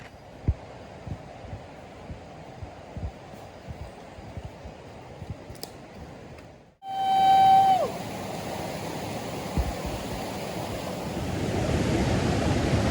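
The Juhu River flows as a steady wash of moving water, faint and even at first, then a loud rushing surge with a brief whistle-like tone, settling into constant nearby water noise that grows toward the end.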